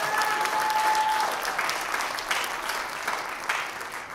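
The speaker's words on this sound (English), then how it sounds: "Let's give another round of applause to Christine." An audience at a college electronic music concert gives a round of applause between performers, full and steady clapping from a crowd that holds throughout with a brief tone sounding early on.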